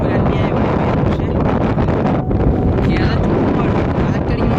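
Strong wind at the Rajathottam mountain viewpoint roars and buffets the microphone in a loud, continuous rumble that drowns out nearly everything else.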